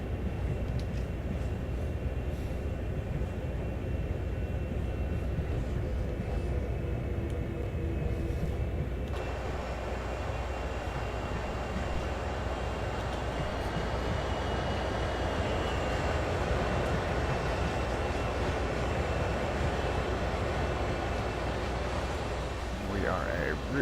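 A CSX heavy haul freight train about three quarters of a mile long rumbles in a Train Simulator game, a continuous low engine drone with faint rail noise, while someone talks over it throughout.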